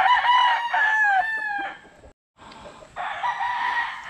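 A rooster crows loudly and close by in one long call, then after a short gap a second rougher crowing or clucking burst follows, with no talk.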